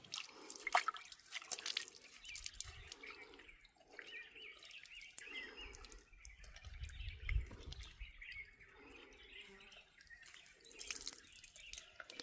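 Raw chicken being rinsed with water outdoors on a hilltop before barbecuing, with irregular drips and small splashes close by and birds chirping in the background.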